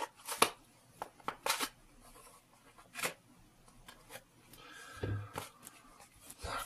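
Several sharp snipping and tearing sounds, close and fairly quiet, as scissors cut open a parcel from China, with brief rustling between the cuts.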